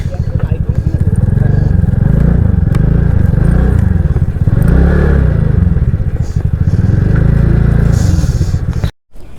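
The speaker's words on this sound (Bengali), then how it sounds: "চলো বাইকটা এদিকে পার্কিং করে দিই" A motorbike engine idles loudly up close with a steady throbbing pulse while being parked in Kolkata, then cuts off abruptly near the end.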